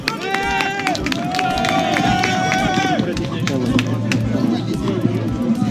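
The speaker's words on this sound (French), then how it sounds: "Merci d'applaudir." A crowd at a Paris rally applauds and cheers in a dense, lively burst of clapping, with whistles and voices carrying over it outdoors.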